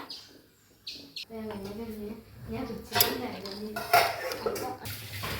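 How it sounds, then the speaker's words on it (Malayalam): Tomato and green chili being stirred in a pan, with a spoon scraping and clinking against the metal in short irregular bursts while a voice talks over the cooking. "തക്കാളി പച്ചമുളകിൻ്റെ പച്ചമണം മാറുന്നത് വരെ നമുക്ക് ഇളക്കി കൊടുക്കാം."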